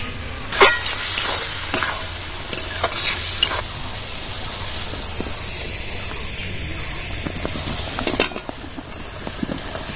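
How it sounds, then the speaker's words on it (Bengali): Prawns stirred and sautéed in spice paste in a pan, a steady sizzle with sharper scraping stir strokes, mostly in the first few seconds and again near the end, close and moderately loud, with no talking. "চিংড়ি মাছগুলো আমি মশলার মধ্যে দিয়ে কষিয়ে নেবো"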